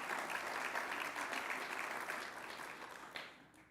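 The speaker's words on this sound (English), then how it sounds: "oh, I see applause." An audience breaks into applause at a national announcement event, giving a steady, moderately distant wash of clapping that fades out over about four seconds.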